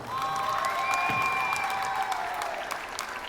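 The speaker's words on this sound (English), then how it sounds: "Please give a big round of applause to Amy Wong." Spectators at a table tennis qualification final applaud champion Amy Wong, a steady wave of clapping with some cheering and a few whistles rising over it.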